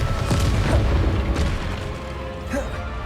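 An explosive Confringo spell in the Hogwarts Legacy video game, a deep rumbling boom that swells and rolls for a few seconds, then fades.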